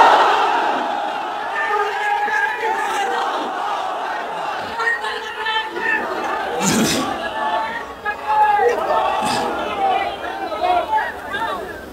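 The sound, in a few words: crowd chanting in response to Takbir call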